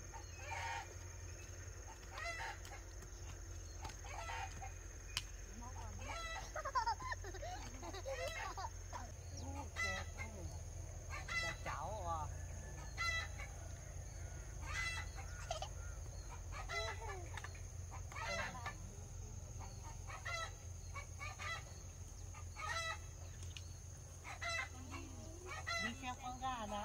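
Chickens clucking steadily at close range on a vegetable garden plot while a rooster crows now and then, with a constant low hum underneath and brief voices talking between calls.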